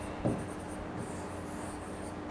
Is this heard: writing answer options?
yes